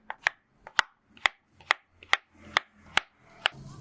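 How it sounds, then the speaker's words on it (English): Knife chopping two potatoes into medium cubes on a cutting board, about a dozen crisp, evenly spaced chops close by, with no talk. "Meanwhile, I will cut 2 potatoes into medium-sized cubes."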